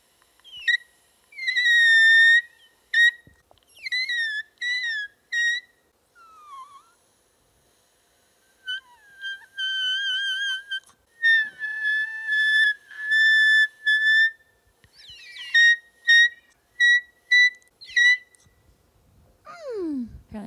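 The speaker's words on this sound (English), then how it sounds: "We're going to try some whistle this morning on the mic." A person whistling high, clear notes into a Samsung R21S microphone, in short separate phrases with pauses between, some sliding up and down in pitch, close and fairly loud, with no other sound between phrases.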